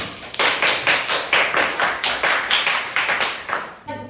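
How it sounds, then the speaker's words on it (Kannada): Children clap together in a steady, rhythmic burst of applause, about a dozen even claps close by, ending abruptly with no talking. "ಚಪ್ಪಾಳೆ ಕೊಡಿ ಮಕ್ಕಳ"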